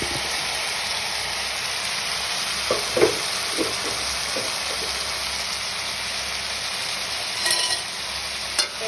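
Potatoes tossed and fried in a pan for a Tamil-style potato curry: a steady, close sizzle runs throughout, broken by a few light scraping knocks from stirring, with no talking.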